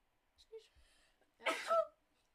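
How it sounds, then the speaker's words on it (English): A single sneeze bursts out loud and close, following a few quiet vocal sounds, during a casual livestream chat. "I'm gonna sneeze."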